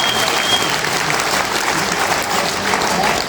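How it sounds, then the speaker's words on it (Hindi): An audience at a motivational talk breaks into loud, sustained applause, a dense, continuous roar of many hands clapping close and full for several seconds. "सर के लिए एक बार जोरदार ताली बजाइए।"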